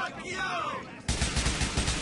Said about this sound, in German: Boah, was ist denn das für eine Knarre auf einmal?